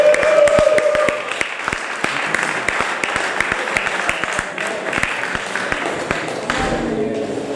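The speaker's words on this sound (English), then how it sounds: "can I have a round of applause for Mr." Audience at a football club's season awards night applauding a goalscorer, a dense burst of close, sharp clapping that continues for several seconds and gradually thins, with some voices mixed in.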